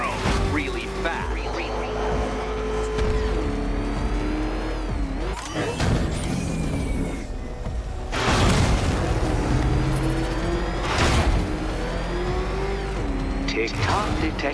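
The Batmobile in Batman: Arkham Knight gameplay roars with revving engine bursts, booming impacts and passing whooshes, loud and continuous while a character's voice speaks over the action.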